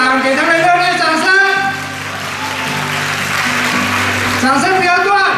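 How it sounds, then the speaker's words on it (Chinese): Audience applause at a church anniversary thanksgiving dinner swells into a steady wash of clapping in the middle, with a voice and background music running over it before and after. "给他们热烈掌声！"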